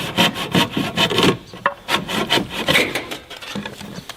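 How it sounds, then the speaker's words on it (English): A handsaw cuts through timber on a deck in close, rhythmic strokes, each push and pull making a loud woody rasp at a quick, steady pace. "There's something so satisfying about using a handsaw."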